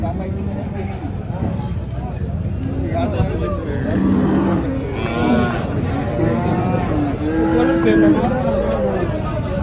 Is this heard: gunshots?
no